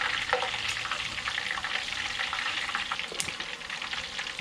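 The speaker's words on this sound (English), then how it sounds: "So you can see here all my jalapenos, ginger, and garlic is all frying in the oil." Jalapenos, ginger and garlic frying in oil: a steady, dense sizzle and crackle, loud and close, with occasional stirring clicks and no talking.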